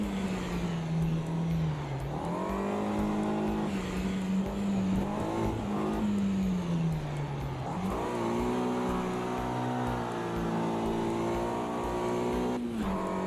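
A sim racing car in a video game weaves to warm its tyres, the engine droning steadily close up with pitch rising and falling through gear changes, loud and continuous.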